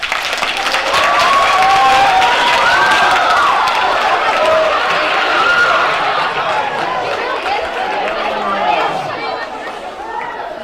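A school audience gives a long, sustained round of applause with cheering and chatter for a singer at an inspirational talk, a dense, loud wash of clapping and voices that holds steady and slowly tapers.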